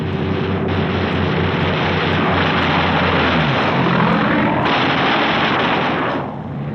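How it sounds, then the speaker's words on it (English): Japanese fighter planes dive head-on into B-29 bomber formations, with a loud, unbroken roar of aircraft engines mixed with dense rattling gunfire, the sound swelling and then dropping away near the end. "the first Jap snoopers appear, diving head-on into the formations"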